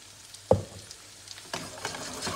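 A stuffed grated-potato galette fries in fat, giving a quiet, steady sizzle close by, broken by a sharp clatter at the start and a brief rise in crackling later.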